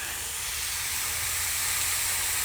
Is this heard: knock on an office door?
no